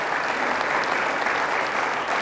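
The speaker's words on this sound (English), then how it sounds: "let's give a round of applause to Mark Johnson and our firefighters" Sustained clapping from a sizable crowd honoring firefighters at a city's annual State of the City address, full and even, continuing at a constant level from start to finish.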